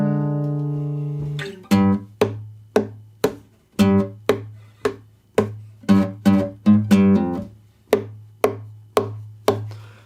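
Guitar, electric or acoustic, picks out the opening line of the Metal Gear Solid main theme: a sustained low note followed by a steady run of sharp plucked notes, some doubled into chords, clear and alone with no talk.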